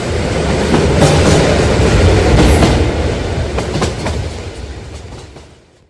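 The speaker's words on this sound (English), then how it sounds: "The train has arrived. Please enter the train." A train arrives in the Roblox game Survive Nightmare Huggy, rumbling loudly with rhythmic clatter on the rails, holding steady and then fading out as it comes to a stop.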